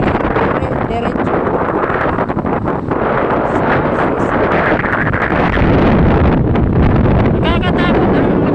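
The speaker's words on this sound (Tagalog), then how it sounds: "Nakakatakot ang lakas ng hangin." Strong seaside wind roars and buffets the microphone on a windy night along the Dasman waterfront in Kuwait City, a loud continuous rumble that swells throughout with brief gusting surges.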